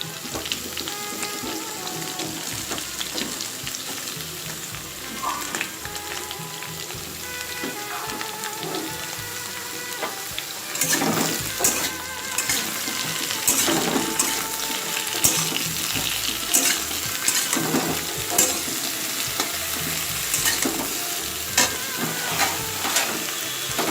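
Eggplant pieces fry in hot oil for a Bengali lau shak dish, a continuous crackling sizzle that grows louder midway as the pan is stirred with repeated scraping strokes.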